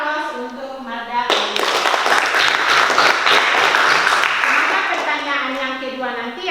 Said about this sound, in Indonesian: kita berikan aplaus untuk Marda